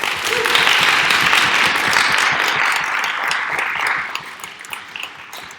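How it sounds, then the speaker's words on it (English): Audience applause for debate speakers at an evening oratory debate event, a dense, sustained round of clapping from a crowd that holds steady for about four seconds and then thins out into scattered final claps. "So I'd like one more round of applause for our fine speakers."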